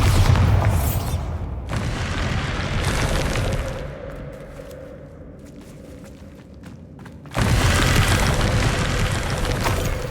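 Bombarda spell in the video game Hogwarts Legacy: loud booming blasts with a rumbling tail, a quieter stretch, then another heavy burst near the end.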